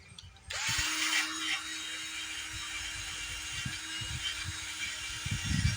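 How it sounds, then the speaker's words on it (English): A power drill spinning a wire brush scours rust off an old Snapper rear-engine rider mower left outside for over 20 years, a steady high whirring grind running continuously with slight bumps in pitch as the brush presses on the metal. "Brought my little drill brush here. We're going to see if that won't do a good job of cleaning the rust off of it."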